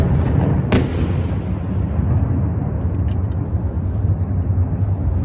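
A sharp missile blast cracks out near the start over a continuous low rumble, distant heavy explosions during a Russian cruise missile attack on Ukraine.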